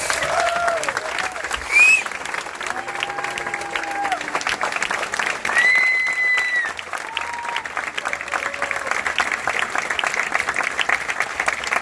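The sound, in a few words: audience applause welcoming Dolly onto the stage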